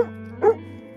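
A dog gives a single short bark on command near a van parked off-road, loud and close over a steady low hum.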